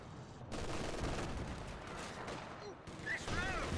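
Machine gun fire in Company of Heroes 2 rattles in a steady, fairly faint stream under battlefield noise, broken by a short gap, as a voice talks over it.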